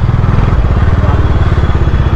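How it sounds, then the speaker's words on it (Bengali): A motorcycle engine idling loudly up close at a motor showroom, a steady throbbing low pulse with rapid regular firing beats. "বাইক পার্ক করবো,"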